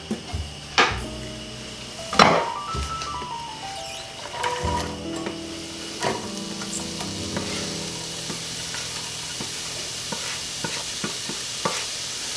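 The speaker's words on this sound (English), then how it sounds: "I actually would have want to have heard a little bit more of a sizzle when I put that in there" Onions sizzle softly in hot grease in a pan while a utensil stirs and clanks against it, with scattered sharp scrapes and taps.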